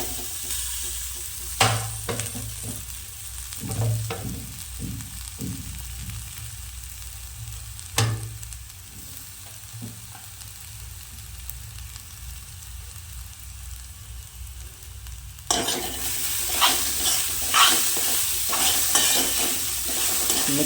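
Poha frying and being stirred in a hot pan, a steady close sizzle broken by scraping stirs, growing brighter and busier once the poha goes in.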